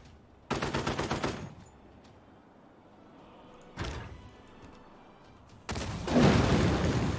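Bursts of gunfire from Civilization 6 units shooting at city walls, three separate volleys: a rapid rattling string, a short sharp burst, then a longer dense barrage, each loud against a quiet background.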